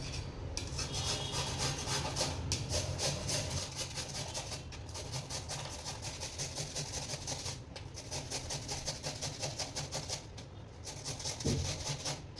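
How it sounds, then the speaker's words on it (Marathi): A peeled potato is rubbed over a hand grater in steady, fast rasping strokes, a continuous close scraping rhythm that keeps going without pause, with faint clinks underneath. "अशी खिसणी घ्यायची आहे आणि ह्याला असं किसून घ्यायचं आहे."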